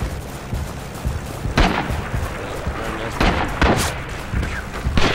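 Gunfire and booming explosions in the Rising Storm 2: Vietnam multiplayer video game, with repeated loud shots and blasts over a dense battle din, and some speech mixed in.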